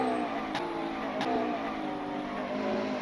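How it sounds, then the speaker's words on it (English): A McLaren 720S GT3 race car engine drones steadily at high revs in a racing video game, with two quick sharp breaks where gears shift up; no voices. "Very nice upshift."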